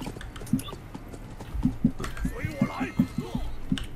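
Horse hooves clip-clopping in the Blood of Steel video game, a scatter of sharp near hoof beats in uneven rhythm while someone talks in Thai over them.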